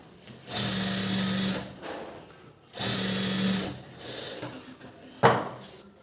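A sewing machine stitches a blouse seam in two sustained whirring bursts of even running stitching, separated by a pause, followed by a short sharp mechanical clack, heard close up.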